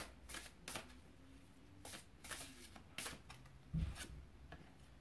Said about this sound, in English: I'm going to pull a card from the Witch's Kitchen deck.